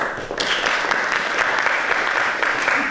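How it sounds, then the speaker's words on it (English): An audience claps for a performer coming on stage at a Valentine's plays show, giving a short burst of dense, lively applause that stays strong throughout. "Round of applause for Victoria, please."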